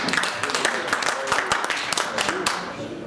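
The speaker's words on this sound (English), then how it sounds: "Give her a round of applause." An audience gives a round of applause for Clark County school board trustee candidate Patrice Tew, with sharp individual claps over a steady crowd wash and talk running through it.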